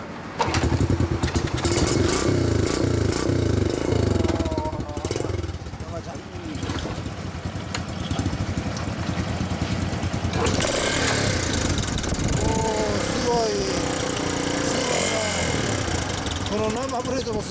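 A motorcycle engine runs and revs loudly nearby, rising and falling, while people talk over it.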